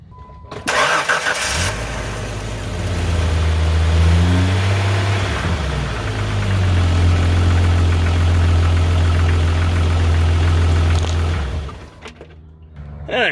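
A Jeep 4.0 engine with a misfire and newly replaced upstream O2 sensor cranks briefly, catches, and settles into a loud, steady idle with a low drone and slight rises in revs before shutting off near the end.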